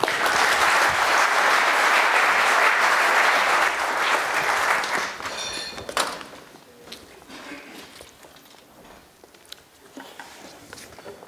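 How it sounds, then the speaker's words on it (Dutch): An audience at a Dutch lecture event applauds as a speaker is introduced, loud sustained clapping that thins out after about six seconds into scattered claps and quiet room noise. "Een applaus graag voor Paul de Beer."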